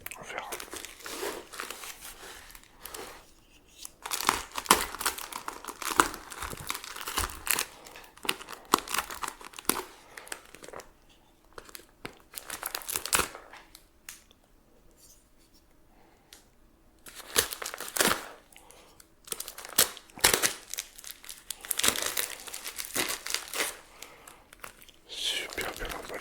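Packaging of a used PlayStation 1 being unwrapped, with bursts of close crinkling, tearing and rustling separated by quiet pauses, and soft whispered speech in between.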